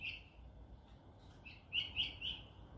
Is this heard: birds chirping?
yes